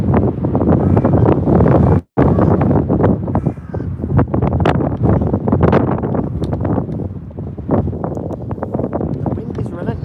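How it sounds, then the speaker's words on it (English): Strong, relentless wind buffets the microphone at Birmingham airport, a loud, continuous roar with gusty surges and one brief dropout, and a voice talks over it. "The wind is relentless today."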